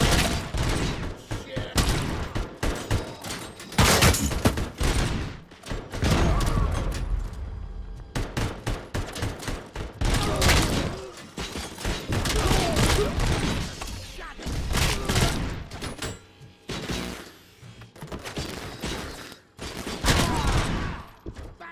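Gunfire in the video game RoboCop: Rogue City on Xbox Series X: loud, repeated bursts of shots and booming impacts come in irregular volleys throughout, with game voices talking between and over the shooting.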